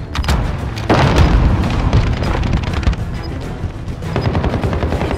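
A grenade explodes during a Modern Warfare team deathmatch at Aniyah Palace, a heavy, loud boom that lands about a second in, amid rapid gunfire and sharp crackling shots from both sides.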